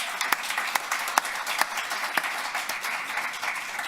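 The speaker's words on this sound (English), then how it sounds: "Please give a round of applause." An audience applauds at an awards ceremony, a dense patter of many hands clapping with a few sharper claps standing out, fairly distant and steady.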